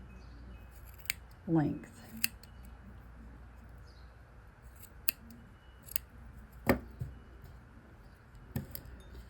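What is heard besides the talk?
scissors trimming yarn earrings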